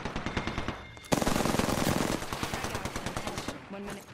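Rapid automatic weapon fire in the battle royale shooter Apex Legends, loud close bursts of rattling shots, a denser volley in the middle, with a player's voice talking briefly over the fight.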